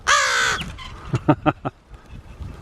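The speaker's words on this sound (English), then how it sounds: "Look at this. A wet crow." A crow gives a loud, harsh caw right up close, followed by a run of shorter, fainter caws, outdoors in a snowy setting.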